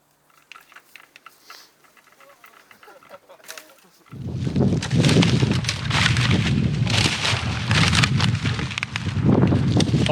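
Strong wind gusting across an outdoor field on a cold day of rabbit hunting, a loud, broad roar that rises abruptly after a quiet opening and then buffets the microphone steadily without letting up.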